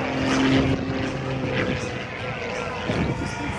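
A Zivko Edge 540 aerobatic plane's propeller engine drones loudly and shifts pitch as it performs at the Battle Creek Airshow, with an announcer speaking over it.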